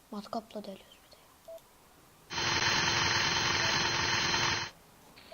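A surgical drill in a surgery simulation game bores a hole into a femur, a flat, steady electronic whine that holds for about two seconds, loud and alone, after a few short clicks.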